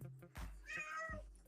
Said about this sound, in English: You're going to have to excuse this cat because he just wants to be in the live stream so bad.